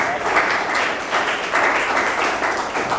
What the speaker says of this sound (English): So I think he deserves applause also.